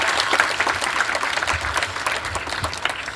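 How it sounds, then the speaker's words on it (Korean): A crowd claps at a book concert in the Halla Art Hall of Halla University in Jeju. The applause is brisk and continuous for a few seconds, fairly loud, with no voices over it. "여기서 박수 한번 쳐셔야 될 것 같은데요."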